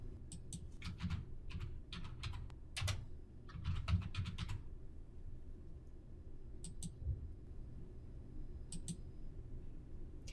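Rapid clicking keystrokes on a computer keyboard come in short bursts with pauses between them, close and clear over a low steady background hum.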